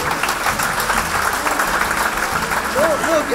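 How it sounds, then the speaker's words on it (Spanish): Audience applause for a performer in a gorilla costume, a steady clatter of clapping that runs the whole moment with voices talking over it. "Un aplauso para el mono."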